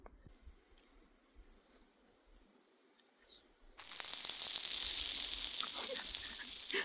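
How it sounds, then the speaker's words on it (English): A steady, loud sizzling hiss bursts in partway through after a quieter stretch of faint rustling, crackling on continuously to the end. "You can hear it sizzle."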